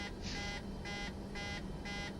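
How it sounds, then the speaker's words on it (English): Repeated cockpit warning beeps in a Boeing 737 in Microsoft Flight Simulator 2024, a steady pulsing tone sounding four times at an even rhythm over low engine hum, with no talk. "It's beeping at me."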